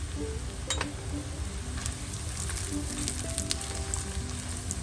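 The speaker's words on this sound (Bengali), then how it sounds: "এখন সবগুলো মশলা একসাথে ভেজে নিব।" Whole spices (cinnamon, two dried red chillies, black and green cardamom, star anise and mace) sizzle steadily in hot oil for a biryani, with a few light clinks from the pan and no voices.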